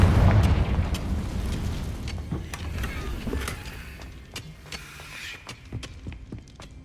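A fiery Confringo blast spell in Hogwarts Legacy erupts with a loud booming burst, then trails off into crackling debris and scattered pops that fade over several seconds.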